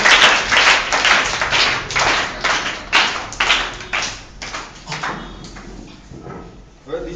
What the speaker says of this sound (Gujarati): તાળીઓથી સ્વાગત કરીએ સાવરિયા દિશાબેનનું